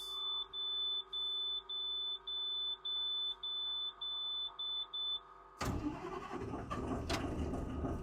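A motorhome's dashboard warning chime beeps in a steady string of about a dozen high tones. The engine then cranks and catches with a sudden loud, rumbling idle close by.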